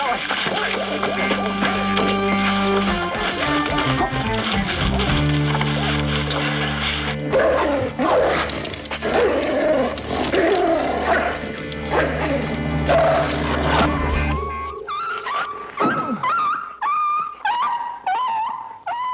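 A dog in a tense crime-drama shootout scene yelps and whimpers in short, fading cries after loud dense sound with music, ending in a series of high pained whines.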